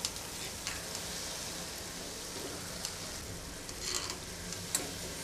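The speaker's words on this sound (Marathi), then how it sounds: "आणि लो टू मीडियम फ्लेमवरती सोनेरी रंगावरती मग तळून घ्यायच्या." Shankarpali sweets deep-frying in oil over a low to medium flame, a steady dense crackle and sizzle with occasional brief pops, fairly faint and continuous.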